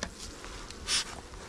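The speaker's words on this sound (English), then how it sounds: "looks like I got some bees up here" Honey bees at a hive being built up for almond pollination drone in a steady, dense buzz, close by, with one bee passing louder near the middle.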